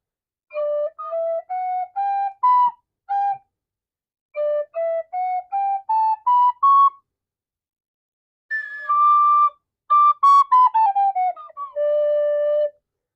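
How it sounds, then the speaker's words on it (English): A tin whistle plays rising scales, clear pure notes stepping upward one at a time in two runs, then a phrase with a quick descending run ending on a held low note, solo and close. "like tin whistle, you start at the bottom and you just lift up fingers for each note."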